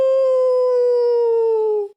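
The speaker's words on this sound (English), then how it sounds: "There's a dog outside my window." A dog howls outside a window, one long sustained, steady howl lasting about two seconds that trails off at the end, loud and clear with no talk over it.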